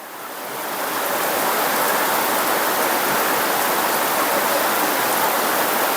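Heavy rain pours on a house, a loud, unbroken roaring hiss that builds over the first second and then holds steady, with no voices.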